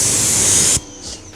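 Ceramic wax spray hisses steadily onto a wet Pontiac G8 panel in one loud, close burst lasting under a second. It stops abruptly, leaving faint handling noises.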